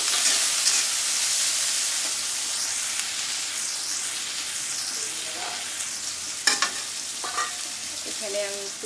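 Chopped onion and green chillies frying in hot oil give a loud, steady sizzle with occasional stirring scrapes and clinks close to the pan.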